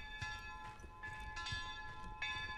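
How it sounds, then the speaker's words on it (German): A church bell tolls in the Alpine horror game Mundaun, several faint, evenly spaced strikes ringing with sustained tonal overtones over a low ambient rumble. "auf jeden Fall die Glocke läutet"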